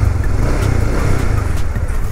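A Honda CB150X motorcycle engine hums loud and close in a brief, steady rev, with a dense low-pitched rumble and no talking.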